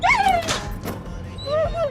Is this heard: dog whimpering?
yes